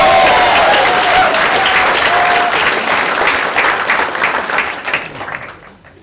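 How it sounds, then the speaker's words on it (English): A large graduation audience applauds and cheers loudly in a hall, a dense continuous wash of clapping that gradually fades toward the end. "But let's have a big cheer for everybody here today."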